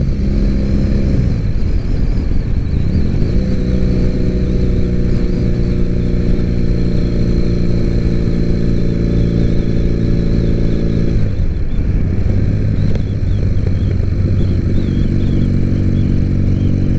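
A Triumph Bonneville motorcycle engine drones loudly and steadily while riding, with pitch shifts as it changes gear and settles into cruising speed in second gear, a constant close engine note without talk.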